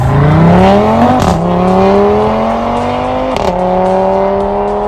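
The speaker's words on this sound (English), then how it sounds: "And here's the Audi RS3's 5-cylinder sound." Audi RS3 five-cylinder engine revving loudly, close up, with rising pitch, a sharp crack between revs, then another climb and a sustained rev, without any voices.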